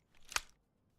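A single quick metallic click-and-slide of a rifle magazine being reloaded in the video game DayZ, short and faint, heard alone.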